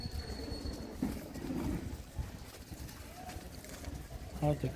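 Low soft cooing from loft pigeons in a Punjabi village, a few calls near the end, heard under a man's conversational speech.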